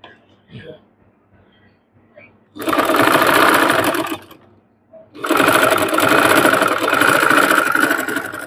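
A sewing machine runs in two loud sustained bursts of rapid stitching while a sleeve is sewn, with quiet handling sounds and brief pauses before and between the runs.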